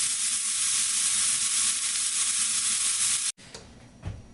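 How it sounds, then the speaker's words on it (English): Two small Argentinian chorizo burgers sizzle loudly and steadily in a pan, a dense close frying hiss that cuts off abruptly near the end, leaving only faint kitchen sounds. "I cook it there, 2 small burgers, so I can taste them"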